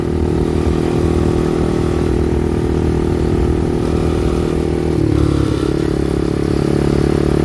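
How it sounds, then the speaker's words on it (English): A motorized bicycle rides past close by, its small engine droning steadily with a rough, clattery rattle for several seconds and a slight shift in pitch toward the end, loud throughout. "my motorized bicycle that I traded for that mini bike. Now he's riding it."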